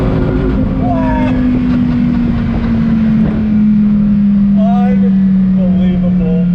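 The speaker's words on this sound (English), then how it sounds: "Second gear, on throttle, here we go." A Dodge Viper sports car accelerating hard in second gear on throttle, a loud steady engine drone with rising harmonics close to the cabin, a voice speaking briefly over it.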